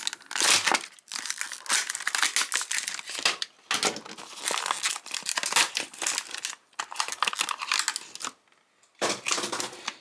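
Plastic and cardboard packaging from Greenlight toy cars, including a 2008 Crown Vic, is torn and crumpled open in loud, close bursts of crinkling with short pauses between them.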